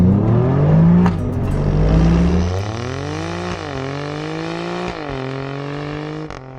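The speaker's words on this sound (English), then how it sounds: "get all the right sounds from the exhaust" An Alfa Romeo Giulia Quadrifoglio in race mode on a winding road, its exhaust roaring close and loud as the engine revs climb through the gears, with shifts and renewed acceleration.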